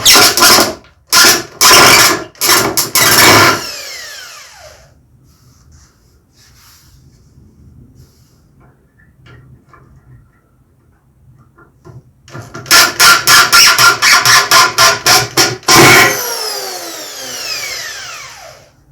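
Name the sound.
power screwdriver driving a screw into a wooden drawer unit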